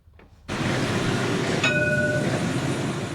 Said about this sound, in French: Et c'est parti pour la ligne 2 du tramway Rabat-Salé.